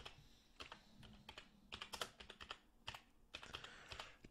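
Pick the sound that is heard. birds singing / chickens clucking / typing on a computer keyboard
typing on a computer keyboard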